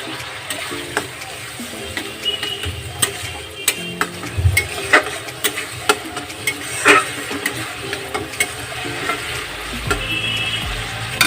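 A tomato sautés in spiced masala with nuts in a pan over low heat, giving a continuous sizzle broken by repeated scraping and knocking strokes of a spatula, close up and with no talking.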